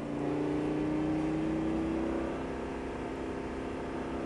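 On a circuit, a Lamborghini Gallardo's engine pulls through an acceleration, its loud, close tone climbing in pitch for about two seconds before settling into a steady roar.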